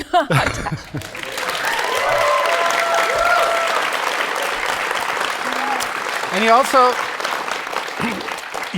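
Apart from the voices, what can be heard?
audience applause for Tash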